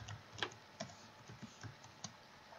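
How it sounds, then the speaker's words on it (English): Light, irregular keystrokes tap on a computer keyboard, a dozen or so soft clicks with occasional sharper ones, quiet and close with no voices. "you're going to type right over that."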